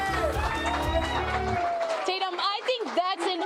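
Crowd cheering and shouting at an election-night watch party for mayoral candidate Adrian Carrasco on Bruce Street in Odessa, a loud, lively mass of voices with music-like tones early, continuing with excited whoops and chatter throughout.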